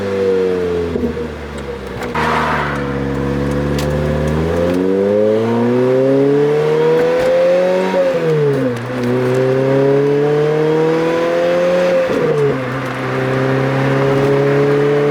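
A Lotus Exige S with high mileage driving, its engine droning loudly up and down through repeated rising and falling revs as gears change, steady and close throughout.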